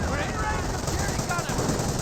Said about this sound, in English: There's 2 Piets, 2 Brens, and 1 MG42 suppressing the entire group.